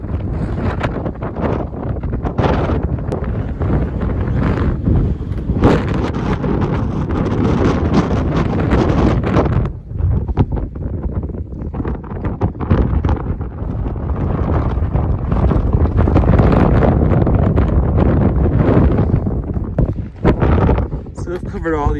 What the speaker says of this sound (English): It's probably 40-mile-per-hour winds.